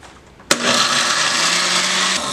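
Kitchen blender switches on abruptly and grinds grapes with a glass of water into juice, a loud steady whirring roar that holds for about two seconds with no talking.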